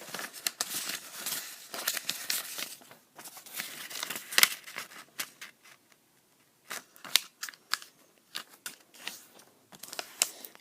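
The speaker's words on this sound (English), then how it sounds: "take a piece of paper. You're going to fold it in half." Paper being folded in half for an origami bird: close, dry crinkles and sharp creasing scrapes in irregular bursts, with quiet pauses between.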